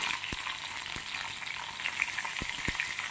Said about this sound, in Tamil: கருவேப்பிலை போடுறேங்க கருவேப்பிலையும் நல்லா பொரிஞ்சதுக்கப்புறம் பெருங்காயத்தூள் போடுறோம்